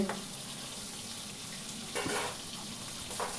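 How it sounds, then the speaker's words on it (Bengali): Boal fish frying in hot oil in a pan, a steady close sizzle throughout with a few brief louder crackles and bursts. "মাছগুলো ভাজা হয়ে গেছে।"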